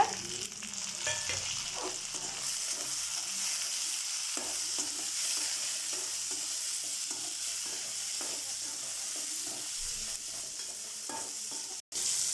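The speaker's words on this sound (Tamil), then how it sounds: "இது நல்லா வதங்கின பிறகு வெங்காயம் போட்டுக்கோங்க. 3 தக்காளி போட்டுக்கோங்க." Onion and three tomatoes fry for pirandai chutney in a pan, giving a steady close hiss of sizzling oil with soft stirring scrapes scattered through and one brief dropout near the end.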